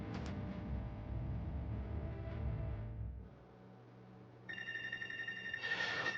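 Telephone ringing in the game Life Is Strange: Wavelengths, a bright repeated electronic ring coming in over a quieter background after music fades, no talk.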